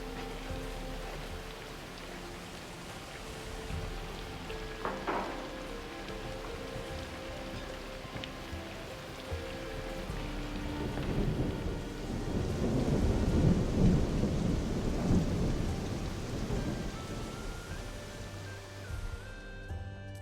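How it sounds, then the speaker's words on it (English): Rain patters steadily in the Anno video game as thunder rumbles and swells into a loud, rolling peak midway before easing off, with soft music tones running underneath and no speech. "Thunder too loud, good song too quiet."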